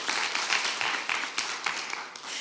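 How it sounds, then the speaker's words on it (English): Round of applause from the audience at a housing summit session, sustained broadband clapping from many people, moderately loud and continuous for the whole stretch without speech. "Let's give them a round of applause"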